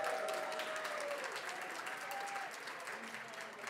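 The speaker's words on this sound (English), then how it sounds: "A round of applause, please." An audience applauds a Croatian folklore ensemble at a folk festival, a dense and steady clapping that fills the hall and fades slightly toward the end, with no voices standing out.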